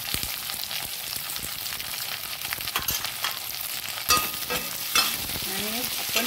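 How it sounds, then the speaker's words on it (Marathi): Red chili, carrot, onion and capsicum are tossed into a hot pan for paneer chili, with a loud continuous sizzle and clattering stir strokes, plus a few sharper scrapes near the end. "पहिले हे लाल मिरची, कॅरेट, कांदा आणि शिमला मिरची हे सगळं आपण टाकून घेऊया याच्यात।"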